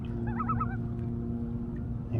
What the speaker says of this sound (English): Here's the loon. He's sitting right here.